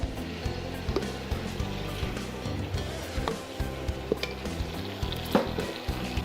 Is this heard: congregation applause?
no